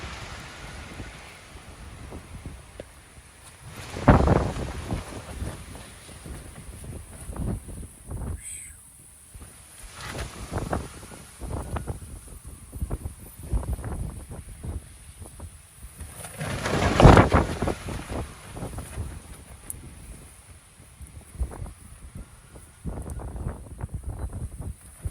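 Strong gusts from a powerful cold front sweep in, roaring in surges with two big blasts and buffeting rumble against the microphone, while a voice talks intermittently underneath.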